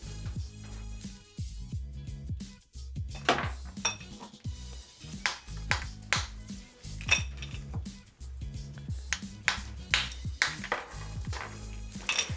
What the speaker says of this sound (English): I'm gonna take a couple of cubes of ice here, and they're not big, but what I wanna do is I just wanna crack them slightly